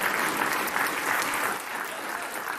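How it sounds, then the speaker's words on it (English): An audience claps steadily for a couple of seconds, a dense patter of many hands that eases slightly toward the end. "Why is the audience applauding that?"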